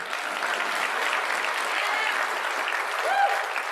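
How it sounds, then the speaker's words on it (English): Audience applause fills a convocation ceremony hall, steady dense clapping from a large crowd throughout, fairly loud, with a faint whistle near the end. "A round of applause for the facilities team."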